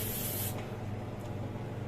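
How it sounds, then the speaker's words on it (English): Cooking spray hisses into a bread tin in one loud, steady burst lasting about half a second, followed by quiet room tone. "Spray it up."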